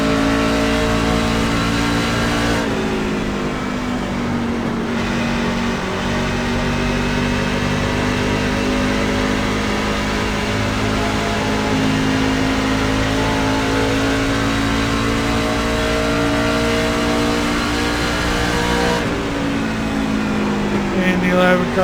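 Truck engines race around Darlington in the iRacing sim game, a loud sustained engine drone holding a steady high pitch, with brief shifts and rises in revs and a spotter's voice talking over it.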